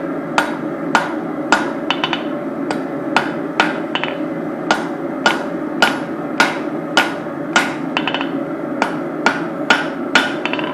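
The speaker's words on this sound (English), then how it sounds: "So we'll start by hammering" Steady hammer blows ring out on hot steel being forged into a knife, roughly two strikes per second, loud and close over a low continuous hum with no talking.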